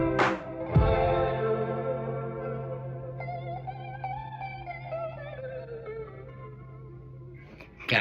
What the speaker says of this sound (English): I put a bunch of delay on that guitar